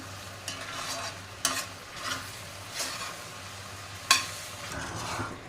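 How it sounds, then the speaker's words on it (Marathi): Carrot halwa simmering with milk in a pan, a low steady bubbling sizzle with a handful of spoon scrapes and stirring strokes spaced a second or so apart, close and without speech. "दूध आटू द्यायचं आहे मिक्स करत राहायचं आहे नाहीतर आपला हलवा खाली चिटकू शकतो"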